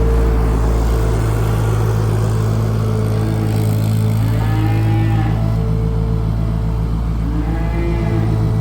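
Cows on a farm moo in long, loud, drawn-out calls over a constant low engine rumble, with a few lowing voices overlapping nearby.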